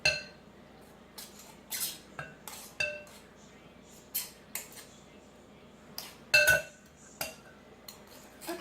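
A metal pastry cutter clinks against a bowl while working pastry dough for a cherry pie, in a series of sharp, separate taps and scrapes spaced irregularly, close and clear over a quiet room.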